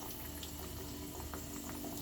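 Chana dal vadas fry in hot oil on a stove over a medium flame, producing a dense, continuous bubbling sizzle heard up close with no talking.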